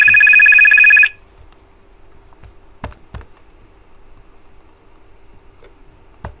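A loud, steady electronic telephone ring lasts about a second and then stops, leaving a quiet background of faint clicks and taps during Wolfenstein 3D gameplay.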